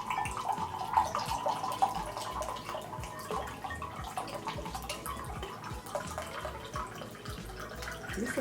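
A drink poured slowly into a mug trickles and drips steadily at close range, a soft continuous liquid splash with faint room noise and no talking.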